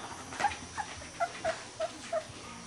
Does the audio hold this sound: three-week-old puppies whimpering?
yes